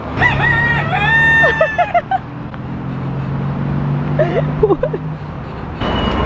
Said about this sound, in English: There's like a whole flock of chickens just hanging out outside the Pete's Coffee.